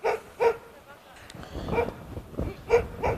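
Dogs at a fenced private house beside a lake turned into a dump in Yakutsk bark in short repeated bursts at a distance, heard beneath someone talking.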